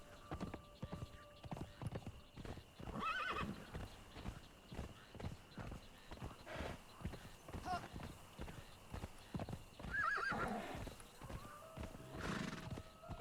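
Mounted horse hooves clip-clop in the game Conan Exiles, a steady walking gait with several whinnies and neighs over quiet game ambience, moderately close.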